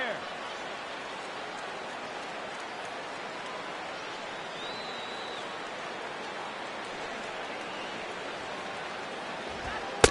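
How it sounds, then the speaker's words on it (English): Heavy rain pours down in a baseball video game, Astros at Rangers, as a continuous even hiss that runs the whole time, ending in a brief knock. "That rain is really coming down now. That's as hard as it's been all afternoon."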